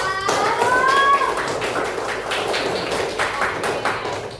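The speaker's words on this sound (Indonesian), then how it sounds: "Beri tepuk tangan untuk Aska." A classroom of students at an elementary school claps for a classmate, a dense run of scattered hand claps lasting several seconds. A voice briefly rises over the start of the clapping.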